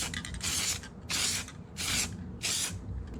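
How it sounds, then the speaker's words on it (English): Four rhythmic bursts of hissing clear-coat spray on car parts at home, each lasting about half a second, close by with no talking. "So I'm gonna go ahead and just get this sprayed on there."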